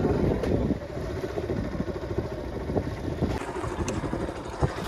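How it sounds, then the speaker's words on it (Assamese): A motor-driven boat running on floodwater, its engine giving a steady low rumble and chug close by, mixed with wind buffeting and water noise, no talking. "নাও চলিছে ছাৰ"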